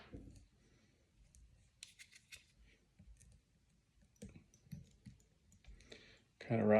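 Scissors trimming feathers during fly tying, close, crisp snips and clicks scattered through an otherwise quiet stretch, ending in a louder burst of noise.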